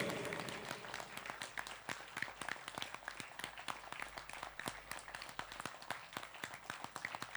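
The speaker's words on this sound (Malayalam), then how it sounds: "നല്ല ഉഷാറായ കൈയടി കൊടുക്കൂ പ്ലീസ്" An auditorium crowd at a cookery show applauds as Chef Pillai walks onto the stage, with steady, dense clapping that runs loud and unbroken for several seconds and carries no talk over it.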